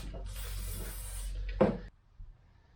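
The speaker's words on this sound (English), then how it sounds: "just pushing on some rust remover stuff" Rust remover sprayed onto the brake disc of a 2003 Toyota Camry 2.4 with the wheel off gives a continuous close hiss lasting nearly two seconds. It ends in a soft thump before near silence.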